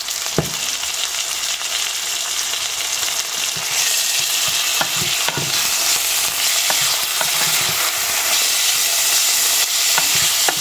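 Bamboo shoots and leftover meat fry in a pan with a loud, continuous bright sizzle, broken by occasional scrapes and knocks of a stirring utensil, close and steady throughout.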